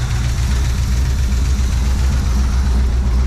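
A 1982 Chevy K10 pickup engine idles steadily while warming up, with a loud, close, low rumble and a slight exhaust leak adding rough texture, no voices present.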